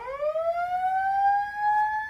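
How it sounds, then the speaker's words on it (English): Hotel fire alarm sounding during a test, a loud, clear electronic tone sweeping upward and then holding steady, close and alone. "they play another bloody alarm."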